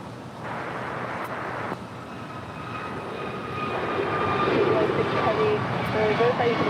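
Airbus A321neo airliner at LAX roaring steadily as it powers up on the runway, a broad continuous engine rumble that swells louder in the second half, with wind buffeting the microphone and faint talk in the background.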